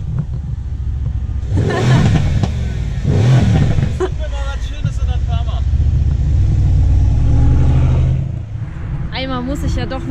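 A Porsche GT3 engine revs loudly and repeatedly, with strong bursts and a steady roaring drone close by, while people talk over it.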